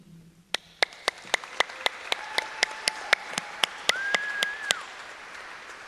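Sparse, evenly spaced single claps at an awards ceremony, about fifteen crisp hand claps in a steady rhythm with a faint sustained tone running beneath them.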